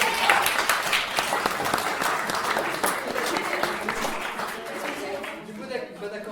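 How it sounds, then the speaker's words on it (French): Spectators at a summer music and arts workshop show applaud the actors, a sustained, even roll of many hands clapping in a room that slowly tapers off, with voices faintly present beneath. "On peut les applaudir, bien évidemment."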